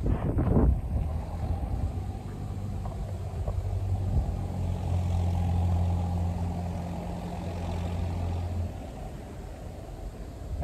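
Airbus Beluga transport aircraft flying in toward Broughton on the outskirts of Chester, a steady low engine drone with wind rumble, sustained for about nine seconds before easing off.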